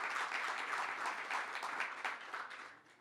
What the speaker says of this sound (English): he should get a big round of applause for that